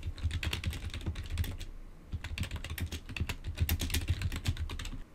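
Rapid clicks from a computer keyboard sound close by as someone types in bursts, breaking off briefly before resuming a quick, uneven run of keystrokes.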